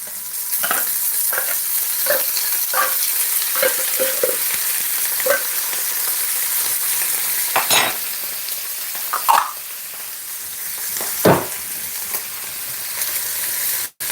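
Tinned tuna fries and sizzles in a pan, with a steady close hiss broken by repeated scraping stirs and occasional louder clatters, no voices.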